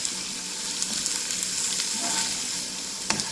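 Onion, ginger and garlic sizzle steadily in a hot pan as they are stirred, a continuous close frying hiss with a few soft scraping touches near the end and no talk.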